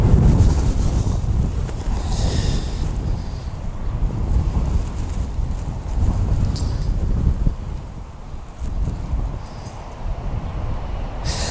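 Strong wind at Wellington Airport on a blustery summer day, a loud continuous roar buffeting the microphone in gusts that swell and ease, with no voices.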